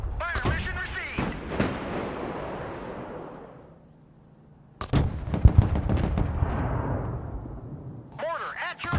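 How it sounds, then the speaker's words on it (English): Mortar and artillery fire in the Broken Arrow video game: a couple of heavy booming reports with rumbling tails, loud and close, with a radio-style voice talking over parts of it. "Fire mission received. Mortar ready."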